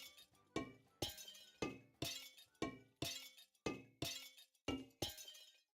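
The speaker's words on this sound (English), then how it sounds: "They actually broke glass for that." Glass breaking sound effect in Minecraft repeats about ten times at an even, rapid pace, each a sharp crisp shatter with tinkling decay, fairly quiet and alone.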